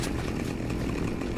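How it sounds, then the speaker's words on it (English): Chainsaw from the Saints Row 2 video game, a steady, loud buzzing engine roar that runs continuously without a break for the whole moment. "swap crowbar with chainsaw"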